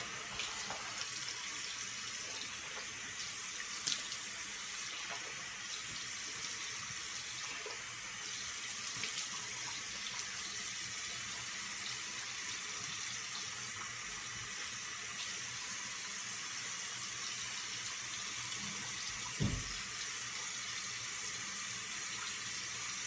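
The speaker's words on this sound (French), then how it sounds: "Pour laver le visage, là." A bathroom tap runs continuously while a face is washed, a faint steady hiss of flowing water with small splashes and a louder thump near the end, no talking.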